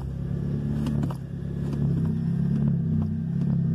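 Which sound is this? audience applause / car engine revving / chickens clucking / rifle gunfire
car engine revving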